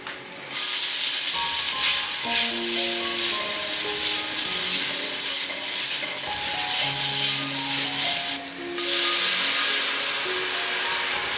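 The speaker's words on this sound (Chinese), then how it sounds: "把芹菜炒香， 芹菜炒香后放入豆包" Celery stir-fried in hot oil in a wok sizzles loudly and continuously, with clinks and scrapes of a spatula against the pan and a brief burst of louder hissing near the end.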